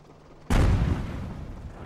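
A single heavy tank cannon blast in World of Tanks, aimed at a Soviet KV-1, booms out loud and close after a half-second of quiet, then rolls off into a long, slowly fading rumble.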